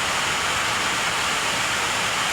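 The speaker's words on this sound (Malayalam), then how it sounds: "നിങ്ങൾക്ക് കാണാൻ പറ്റും ഭയങ്കര നല്ല മഴയാണ്" Heavy rain pours outdoors as a dense, steady hiss, loud and unbroken with no voices.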